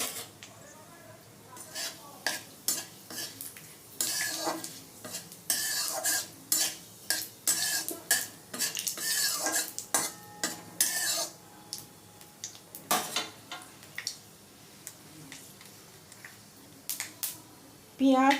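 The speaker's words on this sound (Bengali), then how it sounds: "পাঁচ ফোড়ন দিয়ে দিলাম, একটা তেজপাতা দিয়ে দিলাম।" Panch phoron and a bay leaf crackle in hot oil for egg masoor dal. Bursts of sizzling and popping come with repeated clinks and scrapes of a utensil against the pan.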